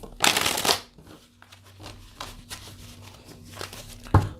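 A twin experience tarot deck is shuffled by hand, with a loud riffling burst at the start, then softer card slides and taps, and another sharp snap near the end, close up with no talking.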